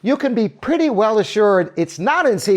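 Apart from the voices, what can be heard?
No everyday noises stand out.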